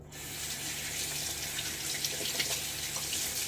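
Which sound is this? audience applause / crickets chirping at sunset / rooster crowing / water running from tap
water running from tap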